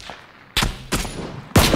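Three separate gunshots from the PUBG battle royale game ring out, sharp and loud with short gaps between them, over a quiet background.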